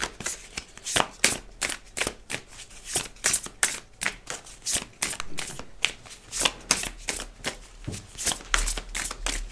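Tarot cards being shuffled in a steady run of quick, crisp riffles, close and loud, with no talking over them.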